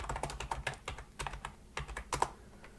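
Quick typing on a computer keyboard while a folder name is entered for STM32 drone programming work: a steady stream of crisp, close key clicks with brief pauses and no voices.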